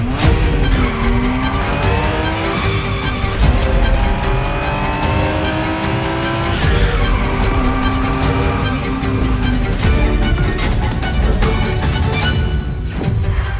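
A Ferrari Testarossa races in The Crew Motorfest, its engine revving loud and close with rising and falling pitch through gear changes, accompanied by tire squeal and skidding.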